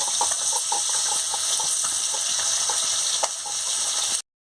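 Fish sizzles steadily in hot oil while a sea fish curry is being made, a continuous loud frying crackle with small pops throughout, ending abruptly in silence.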